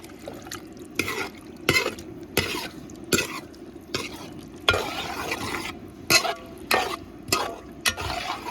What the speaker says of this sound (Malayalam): നല്ലപോലെ ഒന്ന് മിക്സാക്കി കൊടുക്കാം